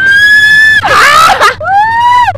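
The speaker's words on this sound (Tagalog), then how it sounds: "Sigaw ka!" Several people scream loudly and close by, two long rising-and-falling shrieks with a burst of overlapping yells between them, on a first and last attempt at some thrill.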